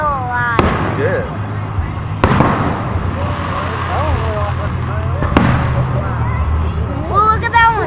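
Fireworks bursting at an outdoor display, several sharp booming explosions spaced a few seconds apart over a constant crowd murmur, with people talking and exclaiming throughout.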